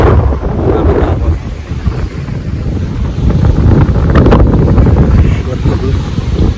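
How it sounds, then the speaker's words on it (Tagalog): Strong wind during a sandstorm at Al Hamriya Town Beach in Sharjah roars and buffets the microphone loudly and continuously, with gusting rises and a thin steady tone above it. "Lakas ng hangin guys. May sandstorm."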